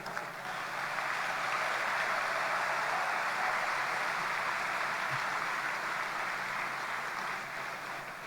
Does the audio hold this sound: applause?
yes